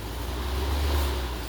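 Reversed electric fan, a 3D model wired with the capacitor lines swapped, blowing air backward in a steady close whooshing rush with a low hum underneath, no talk.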